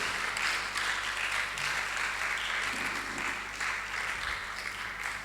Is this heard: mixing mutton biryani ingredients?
no